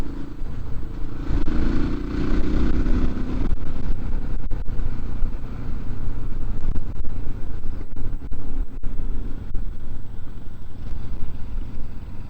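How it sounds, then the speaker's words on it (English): A Honda and a Husqvarna motorcycle ride through Copper Canyon, Mexico, their engines droning steadily and close up, with heavy wind buffeting and some rattling clatter throughout and no talk. "You better pull some throttle on Honda if you're going to run with this Husqvarna."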